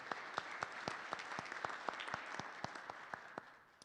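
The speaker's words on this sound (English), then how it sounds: "we're going to give a round of applause for Ms. Rochelle Preston." A small group claps at a school board meeting, a faint, sparse round of applause with clear individual hand claps in an uneven rhythm, tapering off after a few seconds.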